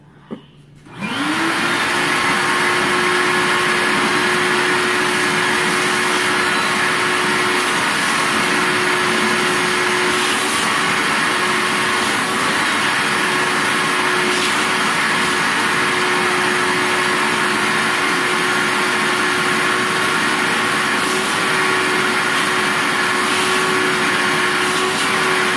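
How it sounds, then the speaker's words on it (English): A vacuum cleaner runs steadily for the whole stretch after a brief click at start-up, a loud continuous motor whine and airflow roar as it sucks debris out of a bird cage during a deep clean. "And go ahead and vacuum that baby out."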